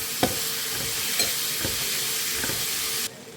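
Onions, tomatoes and hyacinth beans fry with a steady sizzling hiss while a spoon stirs them, making a few soft knocks against the pan before the sizzle suddenly drops away near the end.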